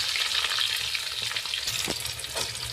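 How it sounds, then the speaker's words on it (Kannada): Green chillies frying in a pan, a steady close crackling sizzle with a few stirring scrapes, no talking. "ಹಸಿಮೆಣಸಿನ್ಕಾಯಿ ಈ ರೀತಿ ಸೀ ಇಟ್ಕೊಂಡು ಇದನ್ನು ಫ್ರೈ ಮಾಡ್ಕೊಳ್ಳಿ"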